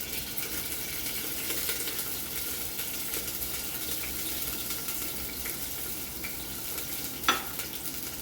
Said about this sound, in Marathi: हा फोडणीला कांदा घेतलाय तो टाकते.